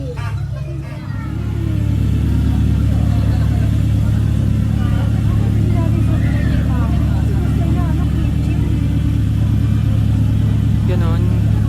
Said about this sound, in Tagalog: nandito kami sa Big City Vehicle